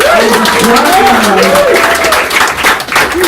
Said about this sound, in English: Give them a mega round of applause